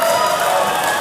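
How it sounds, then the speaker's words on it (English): A short stretch of crowd cheering and clapping rises from the stands at a junior Australian rules football academy match, steady and fairly loud throughout. "A lot of cheering for the Wayne South Tuff, down there."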